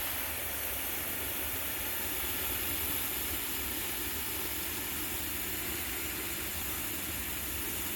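Steady broadband rush of water from a garden hose pouring into a 3-gallon bucket outdoors, continuous and even with no pauses, loud and close.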